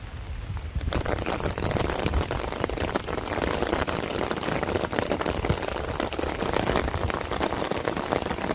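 Steady rain falling outside in a village, a dense continuous patter on surfaces that carries evenly throughout with no voices.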